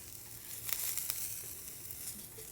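Onions frying in a pan make a faint, soft sizzle with light crackles and a few small ticks, low in level throughout.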